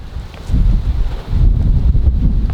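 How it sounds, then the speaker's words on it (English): Gusty wind blowing outdoors while a chicken coop is being built, buffeting the microphone with steady low rumbling noise that swells after the first second and stays loud throughout. "It's a little windy out here, isn't it, Tom?"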